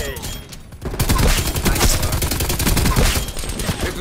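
Rapid automatic gunfire rattles in Call of Duty: Black Ops Cold War, a dense, loud stream of shots after a brief quieter lead-in, continuing almost without pause.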